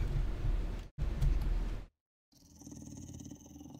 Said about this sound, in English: I hear a dog outside.